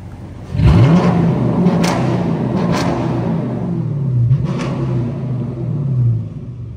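A Dodge Challenger R/T engine fires up with a deep rumble and revs up and down several times, loud and close, the pitch rising and falling in surges.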